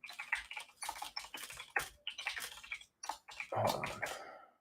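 Rapid bursts of keyboard typing, close and crisp, in several runs separated by short pauses, with a few louder clacks toward the end.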